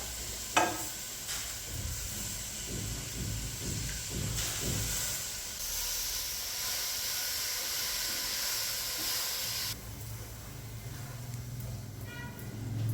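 Spinach and chuka greens sautéing in a pan with spices, a steady close sizzle and hiss with scattered stirring scrapes through the first few seconds, continuing alone without talk.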